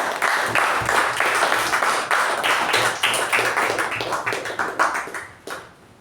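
A room of Toastmasters club members at a meeting applauds to welcome the acting president, a dense round of clapping that holds steady and then tapers off near the end.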